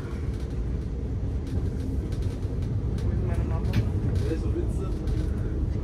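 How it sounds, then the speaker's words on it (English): Inside a train travelling from Frankfurt Airport toward Frankfurt main station, a steady, loud low rumble of wheels and motors runs throughout, with faint voices underneath. "And the train will go back underground."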